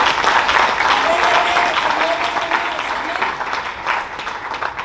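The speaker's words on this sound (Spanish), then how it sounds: "Pues denle un aplauso al Señor, hermano." A church congregation applauding, a dense, sustained burst of many hands clapping together for several seconds, steady and fairly loud with voices faintly under it.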